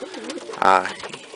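Racing pigeons coo in a loft, soft warbling calls rising and falling, then one louder, fuller coo near the middle, close by and alone.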